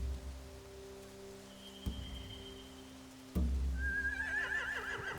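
Horses whinny near a hay store beside a boat, with a sharp thump and a shrill neigh rising late over a quiet, steady background hum.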